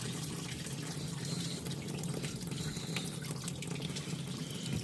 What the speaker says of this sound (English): I'm going to bring the bowl down into the sink. Add some dish soap to it.